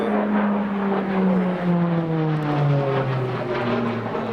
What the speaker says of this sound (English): plane flying right over